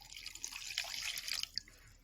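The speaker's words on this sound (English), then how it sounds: "add half glass of water to it" Water pours into a cooking pan of diced carrots, a brief soft trickle and splash, quiet and close with no talking.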